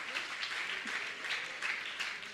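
An audience claps in soft, steady applause at an honouring ceremony during a Jain monk's question-and-answer gathering in Aurangabad, Bihar, heard faint and distant for a couple of seconds.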